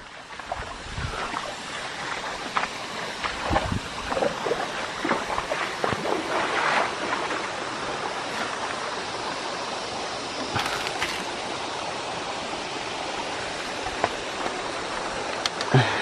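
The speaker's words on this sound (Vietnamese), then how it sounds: "Di chuyển xuống phía dưới có một cái suối. Nước trong veo luôn anh em ơi." A clear mountain stream in the northwest highlands flows and splashes steadily, a constant rushing wash of water close by with occasional sharper gurgles and knocks, heard alone without speech.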